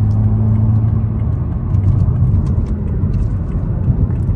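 A Toyota A90 Supra with a B58 engine, turbocharger and Armytrix catless downpipe, in comfort mode, gives a steady loud low engine drone with a constant rumble and faint turbo whir, running without a break.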